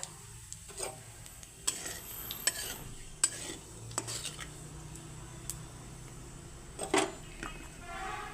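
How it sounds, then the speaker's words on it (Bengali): Nigella seeds and bay leaf tempering in hot oil already used for deep-frying pointed gourd, a low steady sizzle broken by a few sharp clinks and stirring scrapes of a utensil against the pan, close and without talk. "ওই একই তেলে ফোড়নে আমি দিয়ে দিচ্ছি কালো জিরে আর দিয়ে দিচ্ছি তেজপাতা"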